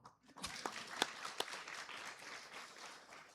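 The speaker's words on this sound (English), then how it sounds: "You can clap a little louder." Steady applause from an audience at a spiritual discourse on Sri Thyagaraja, dense clapping throughout with a couple of sharper individual claps standing out early on.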